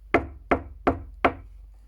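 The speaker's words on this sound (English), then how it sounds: "So Maximus knocked on the door as politely as he could." Four firm knocks on a wooden door, evenly spaced about a third of a second apart, close and distinct with short decays and no voices.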